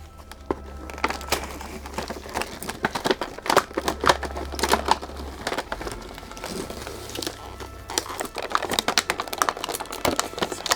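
Crinkling plastic packaging and twist ties being worked loose while unboxing a Simpsons Treehouse of Horror play set, a dense run of close, sharp clicks, rustles and crackles.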